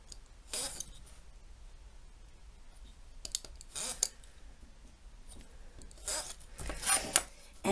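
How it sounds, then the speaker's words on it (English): Small strips of tape are snipped and pulled for a paper accordion card pocket, producing sparse, quiet bursts of crisp clicking and crinkling separated by near silence. "you're cutting these little strips of tape"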